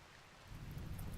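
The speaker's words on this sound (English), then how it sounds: "Oh, it's raining now" Rain falls in the game Rimworld, a faint, even patter with a low rumble that swells slightly partway through, heard alone with no talk.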